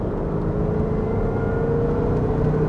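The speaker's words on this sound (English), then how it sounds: "That faint whine as the supercharger kicks in." A supercharged 4.2-litre V8 Range Rover L322 pulls in third gear at half throttle from around 3000 rpm, a steady engine drone with a thin, faint supercharger whine rising over it, heard from inside the cabin.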